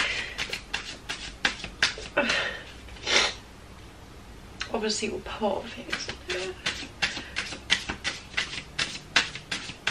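Tarot cards shuffled by hand during a reading, a run of quick crisp riffles and snaps repeating close by, broken up by a sniff and a few spoken words.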